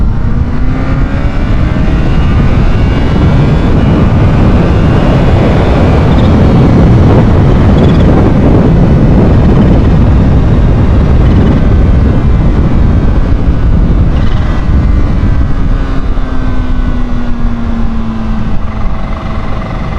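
A Kawasaki Ninja H2 motorcycle runs on the road at a loud, steady engine drone with wind rush, its pitch rising and falling gently as the throttle varies, with no voices.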